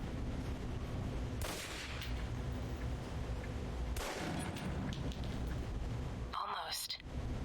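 Gunshots from a weapon in the 2010 spy action game Alpha Protocol, a few sharp loud reports spaced seconds apart over steady background noise, with someone talking.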